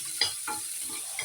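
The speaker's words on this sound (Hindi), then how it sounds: "बड़ी बारीक कटी हुई प्याज, और जिसको हम अब मीडियम लो फ्लेम पे धीरे धीरे भून लेंगे" Finely chopped onion frying and being stirred in a pan over a medium-low flame for a traditional Rajasthani sev tamatar curry, a soft steady sizzle with a few scraping stirs.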